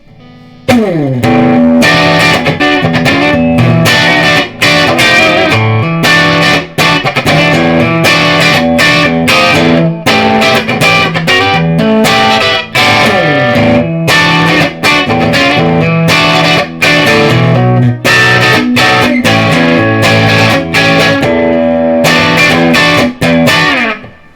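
A Firefly FFTH Tele Thinline copy electric guitar plays loud, distorted blues ninth chords, struck in repeated rhythmic stabs with short pauses between phrases, close and alone.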